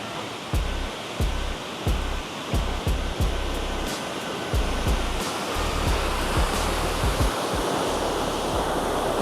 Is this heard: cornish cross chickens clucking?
no